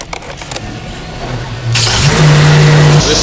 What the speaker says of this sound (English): let's turn on the engine and see exactly if it even works